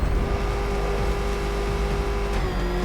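The Batmobile in Batman: Arkham Knight drives with a steady, loud, close engine drone and rumble, held throughout with a slight shift near the end and no talk.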